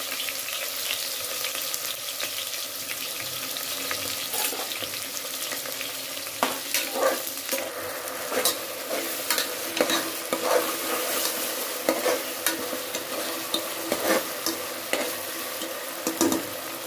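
Marinated chicken leg pieces sizzle in hot oil in a pressure cooker, a steady frying hiss broken by repeated clinks and scrapes of a utensil stirring the pot.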